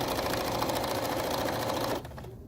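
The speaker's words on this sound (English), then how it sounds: "continue sewing and pulling those clips as you go." A sewing machine runs steadily, stitching binding onto a quilt edge with a fast even mechanical whir, then drops to a quieter hum as it slows near the end.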